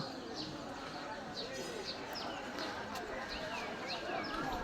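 Young pigeons coo softly in a noisy loft, with scattered chirps repeating over a constant rustling background.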